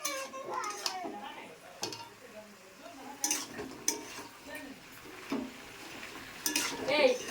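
Ginger-garlic paste and chili paste being stirred in a pan, with intermittent scraping and clinking of a spoon against metal over a faint sizzle, plus scattered background voices.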